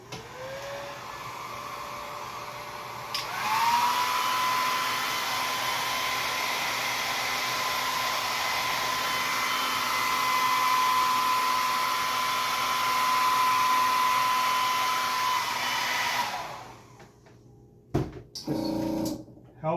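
A hair dryer blows steadily at close range to dry FX makeup adhesive, switching on with a rising whine, holding a loud even roar for about thirteen seconds, then cutting off, followed by a few faint handling knocks.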